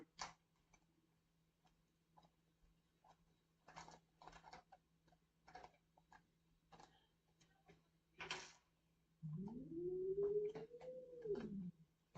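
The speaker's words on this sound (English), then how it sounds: "Cat growling." A cat growls once, a rising and falling drawn-out sound near the end, following scattered quiet ticks and clicks from camcorder repair work on a bench.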